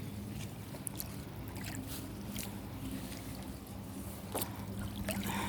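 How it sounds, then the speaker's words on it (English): A kayak paddle dips and pulls through water in a soft, steady wash with light splashes and drips, heard up close and alone under a low broadband rumble. "Let me do some paddling."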